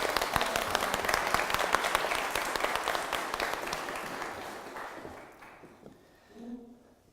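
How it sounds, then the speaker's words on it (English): A crowd of wedding guests claps together in sustained, dense applause for several seconds before it fades away, with a brief voice heard near the end. "I think that deserves a round of applause from us."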